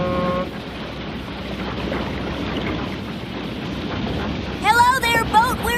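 A boat's engine raises a loud, steady broadband racket on the water near Hannibal, with voices calling out over it toward the end.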